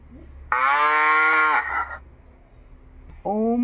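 A cow's moo played back from a talking Bhagavad Gita book, two loud, steady electronic-sounding lows, a long one followed after a pause by the start of a second.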